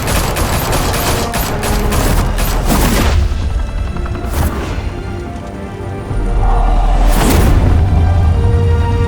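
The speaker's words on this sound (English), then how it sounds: "Open fire!" Gunfire from a Batman game (Realm of Shadows) at a mafia high-rise club: loud, dense volleys and booming blasts, a rapid fusillade early, then a lull before heavy explosive fire returns near the end.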